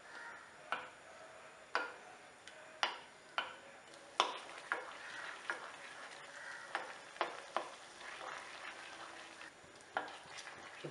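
A pot of carrot water simmers quietly, with soft bubbling and sharp pops or clicks recurring roughly once a second.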